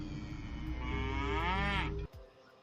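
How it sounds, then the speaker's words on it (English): Cattle give one long, drawn-out moo lasting about two seconds, its pitch rising and bending before it breaks off abruptly, with no talking over it. "Just some cows mooing."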